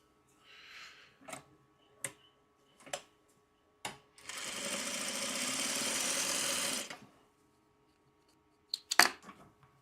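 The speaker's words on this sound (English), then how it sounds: "let me just sew one extra block" A sewing machine stitching a quilt block whirs in one steady run of about three seconds. Short clicks and taps of handling the fabric come before and after it.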